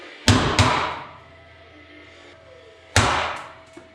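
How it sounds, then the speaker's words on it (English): A hammer strikes rivets on a Chevy S10 truck frame. Two sharp metallic whacks land in quick succession, then a pause and another hard blow, each ringing briefly before fading. "Now I'm going to give them a good whack with a BFH and hope they pop out."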